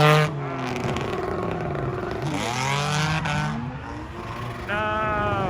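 A drift car's engine on track at a grassroots drift event, loud and close, with rising and falling revs and sweeping pitch changes as it passes, joined by a second engine note near the end.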